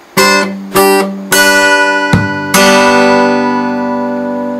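A few sharp acoustic guitar plucks, then a brief percussive knock and a single ringing strum that sustains and slowly fades, with no voices.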